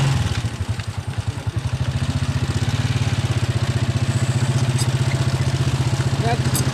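A motorcycle engine idles close by with a steady, rapid, loud chugging pulse that holds an even rhythm throughout.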